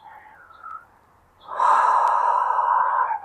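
During a yoga pose, quiet breathing starts things off, then a long, steady, loud exhale with a breathy, slightly voiced edge holds for the final couple of seconds.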